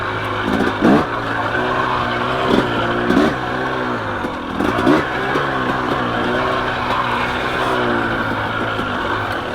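A KTM 300 XC two-stroke dirt bike rides close by on a single-track trail, its engine revving and dropping in repeated bursts with a few brief scuffing slides from the locked rear brake.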